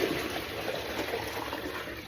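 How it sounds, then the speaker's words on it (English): Steady rush of soapy water pouring from a bowl in a kitchen cleaning job, a continuous close gush with no talking. "I'll put the bowl of water in it now"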